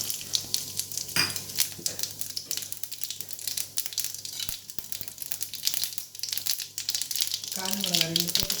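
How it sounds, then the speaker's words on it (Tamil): Mustard seeds and cumin sizzle and crackle in hot oil, tempering for a South Indian buttermilk curry, with steady popping throughout, and a voice briefly talks near the end. "இப்போது மோர் குழம்பு கடுகு, ஜீரகம் விட்டு தாளிக்கலாம்."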